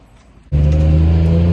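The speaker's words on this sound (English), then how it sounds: "going on the first test drive with the rear brakes on" A BMW E46 M3 fitted with Porsche rear big brake kit sets off on a test drive; after a brief near-silence, a loud, steady engine drone and low rumble suddenly kick in and hold.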